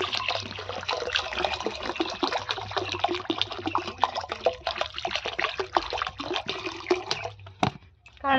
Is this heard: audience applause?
no